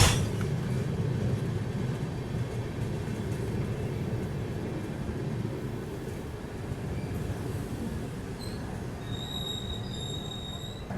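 The Jharkhand Swarna Jayanti Express pulling into Barkakana Junction railway station: a continuous rolling rumble of wheels on track, joined toward the end by thin, high metallic wheel squeals.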